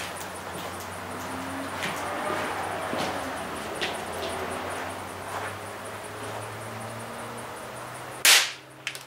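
A capacitor bank discharges through a bimetal strip fuse, producing one sudden, loud crack near the end of the clip. Before it there is a steady low hum and a few faint clicks, with no speech.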